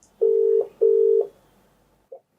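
A telephone call being placed: two long steady ringback tones with a short gap between them, then a brief faint beep, clear and close with no talk.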